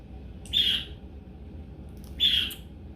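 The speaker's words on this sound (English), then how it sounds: "That bird." A bird gives two sharp, harsh squawks about two seconds apart, each short and fairly close, standing out clearly over a quiet background.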